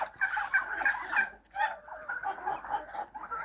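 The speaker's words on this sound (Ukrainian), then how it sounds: "індики ще ніяк не можуть зійтися їсти" Turkeys in a farmyard gobble in quick, rattling bursts close by, with overlapping calls from a small flock and brief gaps between them.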